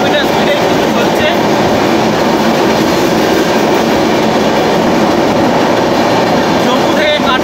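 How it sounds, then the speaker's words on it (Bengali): The Uttar Sampark Kranti Express from New Delhi to Katra runs at full speed, about 100 km/h, giving a loud, steady roar of wheels and rail noise with faint clatter throughout, heard from inside the carriage. "পুরো ফুল স্পিড 100 কিলোমিটার স্পিডে কিন্তু চলছে।"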